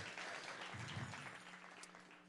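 Applause from the audience at a design talk on neon art, a steady wash of clapping through the short stretch, quite faint and distant.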